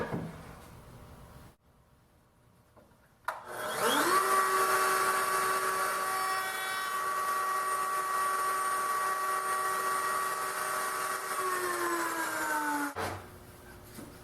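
A router rounds over the top outer edge of a wooden tool stand skirt: after a short pause the motor spins up and whines steadily for about nine seconds, then winds down.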